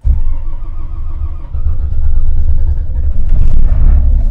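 A Heuliez Access bus in OMSI 2 cranks and fires up, a low engine rumble growing louder and steadier after a brief start, then idling heavily and close.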